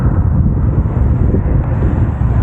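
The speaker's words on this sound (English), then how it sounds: "Extremely windy." Strong wind in central Canada roars and buffets steadily against the microphone, a dense low rumble with no pauses.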